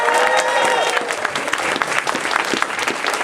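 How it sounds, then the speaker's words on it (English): A crowd at the Minamicon 27 anime convention closing ceremony breaks into loud, sustained applause for the staff, dense clapping that fades slightly toward the end with faint cheering mixed in. "can I get you all to give a round of applause to all of like the Minamicon and staff and everybody for putting on this amazing event?"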